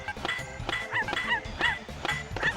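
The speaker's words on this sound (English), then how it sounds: "Why is there a dog?" In The Simpsons Skateboarding video game, a dog yips and barks in quick repeated short bursts over game music and effects.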